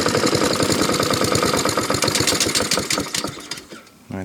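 A Honda Izy lawn mower engine, restarted after ten months unused, runs roughly and struggles to hold idle, a rapid uneven chugging that stays loud and close before sputtering down near the end.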